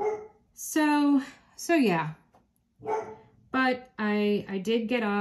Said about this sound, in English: So I apologize for the barking.